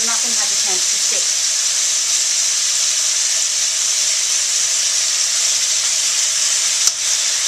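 Beef cubes stir-fry in a wok for Vietnamese shaking beef, giving a loud, steady, hissing sizzle with a few tossing clatters at the start and a single knock near the end.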